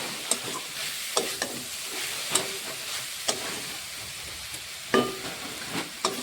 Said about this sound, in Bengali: এইভাবে কিছুক্ষণ নাড়তে নাড়তে নারকেলের সঙ্গে গুড়টা ভালো করে মিশে যাবে।